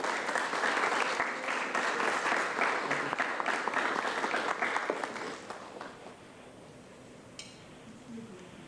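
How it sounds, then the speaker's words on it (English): Audience applause at a San Diego County Board of Supervisors meeting, loud sustained clapping from a room of people for about five seconds, then fading into quieter room murmur and scattered sounds. "Please join me in a round of applause."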